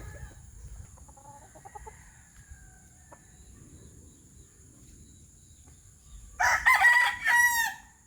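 One rooster crows loudly near the end, a rising call after several seconds of quiet outdoor ambience with faint distant clucks.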